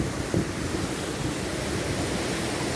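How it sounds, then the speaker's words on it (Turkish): A stream runs through a historic water mill, heard as a steady, dense rush of flowing water that holds a constant level throughout with no voices. "İşte içinden gördüğünüz gibi dere geçiyor."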